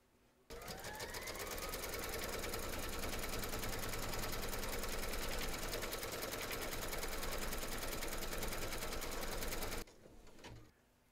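Embroidery machine stitching round four of an in-the-hoop teddy and unicorn bag, a fast, even, mechanical whir that starts abruptly, runs steadily for about nine seconds, then stops.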